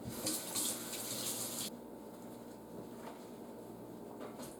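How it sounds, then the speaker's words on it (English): Tap water runs steadily while hands are washed at a kitchen sink, a broad hiss that stops abruptly after about a second and a half, leaving faint room tone with small knocks. "I'm going to give my hands a quick wash"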